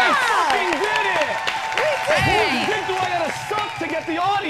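Scattered audience clapping runs under loud, overlapping excited voices and laughter throughout, with speech dominating over the applause.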